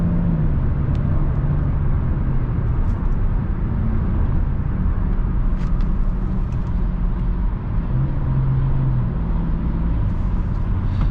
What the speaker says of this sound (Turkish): Şöyle vites geçişlerimize de bakalım. Şu an 6'da düş.